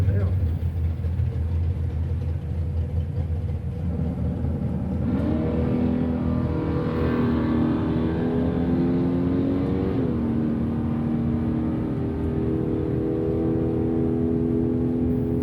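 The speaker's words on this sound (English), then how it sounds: "Dan Brown's got that little Chevy Love back out" At a Wednesday night drag strip, a Chevy Luv and a 1970 Camaro race: engines drone, then rev and climb in pitch as the cars accelerate, steady and fairly loud under an announcer's talk.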